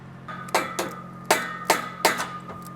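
A hammer knocks a piece loose from a building in several sharp metallic knocks, irregularly spaced, one after another against a low steady hum, with no talking.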